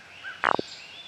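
A person's voice imitates the chuck calls of a male frog in a swamp: three quick, loud descending croaks close up in the middle of an otherwise quiet moment.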